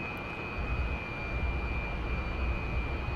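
A Su-27 jet engine in the DCS flight simulator hums steadily after being throttled back, a low, even roar with a thin high whine running through it and no speech.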